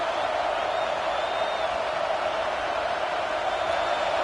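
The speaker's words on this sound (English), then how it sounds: "This crowd knows when to bring it." A stadium crowd in the College Football 25 video game roars in a dense, constant wash of cheering that holds steady and loud the whole time, with no clear individual voices.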